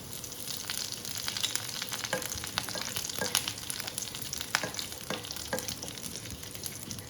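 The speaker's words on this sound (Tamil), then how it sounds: "இப்போ மிளகாய் சட்னிக்கு தாளித்து விட்டுக்கலாம். கொஞ்சம் கடுகு போட்டுக்கலாம், கொஞ்சம் உளுத்தம் பருப்பு, அப்புறம் கொஞ்சம் கருவேப்பிலை" Mustard seeds, urad dal and curry leaves sizzle and crackle in hot oil, tempering for a Chettinad dried red chilli chutney: a steady close frying hiss with scattered sharp pops, no voices.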